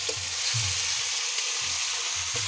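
Fish frying in oil, a steady close sizzle with no talk, while low soft thumps and knocks come now and then.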